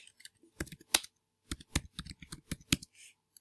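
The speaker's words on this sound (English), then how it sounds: "So I'm going to type in one of my clients I've already got." Keystrokes tapped out on a computer keyboard, a quick burst of close, crisp clicks in uneven clusters with short pauses between them, and no voice over the top.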